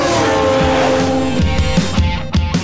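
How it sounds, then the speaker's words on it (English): Racing motorcycles at high speed on a racetrack, a loud sustained engine howl that drops in pitch and breaks into rough, pulsing revs toward the end, with no voices. "I take motorcycle riders to racetracks and let them ride their bikes at 280 kilometres an hour"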